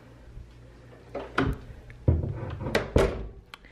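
A closet door in a dorm room is opened, giving a few wooden thunks and knocks, fairly close and loud, over faint background hum.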